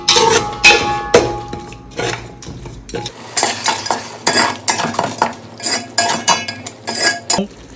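A spoon stirs a rice mixture for vegetable brinji in a metal pot, giving loud, rhythmic scraping and clinking strokes in quick succession, with a faint sizzle between them.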